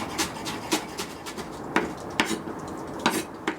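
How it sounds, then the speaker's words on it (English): A knife chops fresh coriander on a board with a series of sharp, irregular knocks and taps, close up and fairly clear, with no one talking. "Just run the knife through it. Give it a good old chop."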